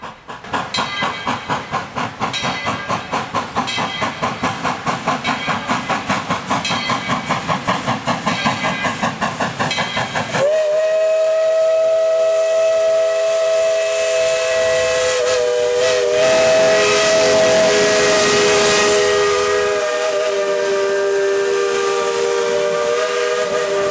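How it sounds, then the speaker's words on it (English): ET&WNC No. 12, a 4-6-0 Ten Wheeler narrow gauge steam locomotive, chuffs in a rapid beat, then lets out a long, loud, steady multi-tone whistle with hissing steam beneath it. "Number 12 is the only surviving steam locomotive from the ET&WNC's narrow gauge line"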